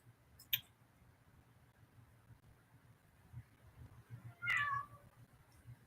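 A cat in a video game, distorted to sound demonic, gives a short sharp cry followed a few seconds later by a longer, louder warbling yowl over a low background rumble.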